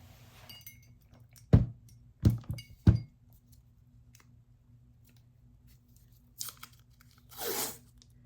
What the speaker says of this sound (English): So what I'm going to use is this painter's tape.